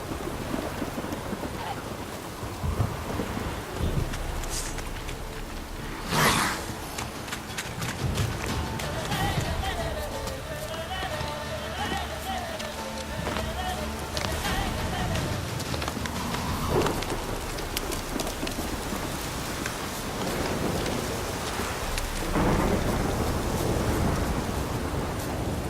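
Rain and rolling thunder in The Witcher 3: Wild Hunt, a steady wash of rainfall with thunder cracks and rumbles swelling through it, and a voice speaking over the storm.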